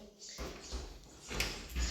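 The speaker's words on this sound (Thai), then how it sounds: "ประตูมันเสียงดัง" A noisy sliding door in a home drags open with a low rumbling scrape, a few rough bursts of grinding and rattling close to the listener, with no talking over it.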